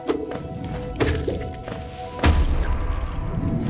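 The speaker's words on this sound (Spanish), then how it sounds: "Mira qué pedazo de explosión, tío." Explosion in the Hollow Knight video game, a heavy whack and thud with a loud low boom near the end, following a couple of lighter thumps in the game audio.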